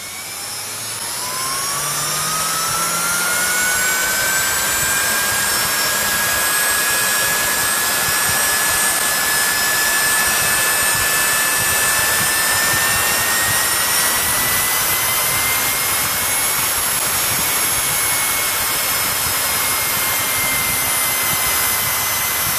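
A repaired electric chainsaw's series-wound motor runs on a variac, its whine rising in pitch as the voltage is cranked up, then holding a loud, steady high-pitched scream with a buzzing rumble beneath.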